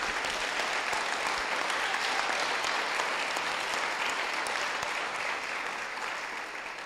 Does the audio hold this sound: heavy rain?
no